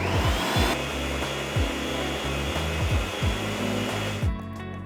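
An electric mixer whirs loudly and continuously through thick sweet potato brownie batter made with cacao and maple syrup, its motor droning with repeated sweeping pitch dips, then cutting off near the end.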